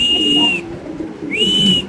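A male Mundian pigeon, single blue bar coloured, gives two drawn-out whistling coos, close and clear, separated by a brief pause.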